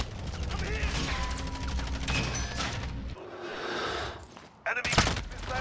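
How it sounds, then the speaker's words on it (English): Gunfire in the video game Modern Warfare, with bursts of shots and booms packed densely through a loud, busy game mix, and a sharp loud burst near the end. "I tried shooting him."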